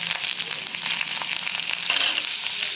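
Capsicum and onion fry lightly in a pan for soyabean manchurian, a steady dense sizzle that holds close and even throughout with faint stirring clicks.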